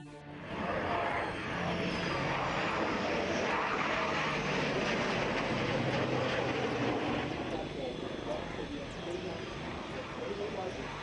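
Military aircraft flying over the Aero India air show, a broad roaring engine drone that rises in and holds steady, with a voice talking over it.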